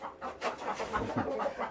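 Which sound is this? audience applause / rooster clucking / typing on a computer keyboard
rooster clucking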